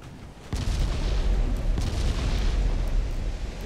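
Heavy 9-inch naval guns firing in Ultimate Admiral Dreadnoughts, with a sharp booming report followed by a second blast and a continuous roaring rumble of battle that fills the whole stretch.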